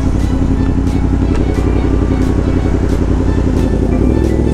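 A Yamaha MT-10 with its 1000cc crossplane inline-four idles and burbles close by, a loud, steady, uneven rumble with a throaty pulsing beat throughout.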